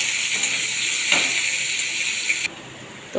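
Onions sizzling as they fry in a pan, a steady hissing crackle held throughout that drops slightly in level near the end.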